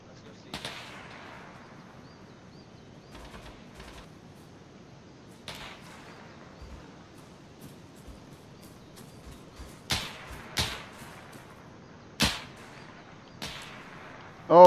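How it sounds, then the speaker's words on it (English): Gunfire rings out in an Arma 3 firefight, a few sharp shots spaced apart and rising toward the end, mostly distant over a low background rumble. "All taking heavy fire."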